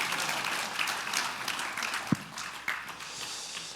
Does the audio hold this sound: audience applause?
yes